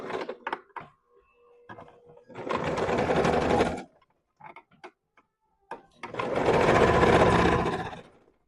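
A sewing machine stitches elastic onto a pair of shorts in two close, steady runs: a short burst and then a longer one, with small clicks and fabric handling in the pauses between.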